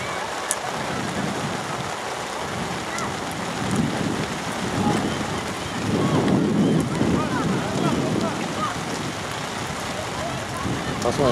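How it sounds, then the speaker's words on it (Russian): Steady rain hisses down across an outdoor youth under-13 football match between Narkhoz and FC Almaty, a constant broadband wash with a slightly heavier spell midway, while a commentator's voice runs faintly underneath. "Матч проходит под дождем."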